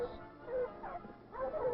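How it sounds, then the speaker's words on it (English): Sled dogs bark and yip on the frozen tundra, a few short calls rising over the hiss of sled runners on ice, moderately near and fairly quiet. "The barking of the dogs."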